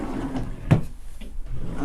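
A brief wooden knock as a drawer in a workshop router table slides shut, a single close thud amid quiet room noise.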